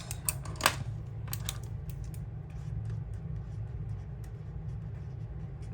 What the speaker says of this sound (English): There's something about a clicky pen.